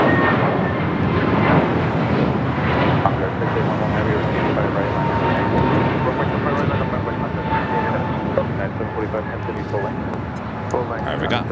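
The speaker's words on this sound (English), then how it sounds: "we got Moss Air Cargo, the A330, number 2 for takeoff" A Mas Air Cargo Airbus A330 taking off at LAX, a loud, continuous engine roar that fills the whole stretch with a sustained broad rumble, with talking over it.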